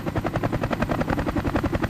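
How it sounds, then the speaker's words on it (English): Heavy-lift helicopters drag guide cables across hard-to-reach areas during construction of an artificial sand island in Dubai; a loud, close rotor thump pulses in a fast, even rhythm throughout. "In areas impossible to reach, heavy-lift helicopters dragged the guide cables across."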